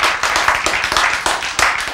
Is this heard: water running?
no